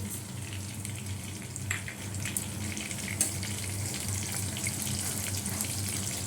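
Fenugreek seeds sizzle in hot oil for tempering, a steady close hiss and crackle running throughout with a few small pops and a low hum underneath.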